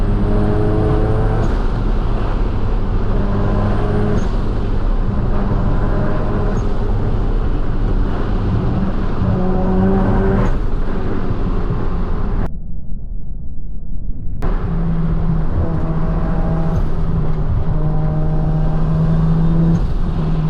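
A Mazda RX7 FD drives at steady speed, its engine drone and road noise continuous and close, with a short break partway through before the sound resumes.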